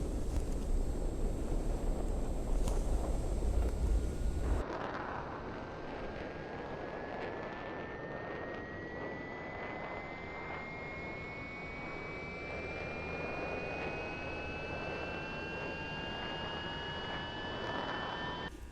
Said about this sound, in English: And then you turn on your left engine.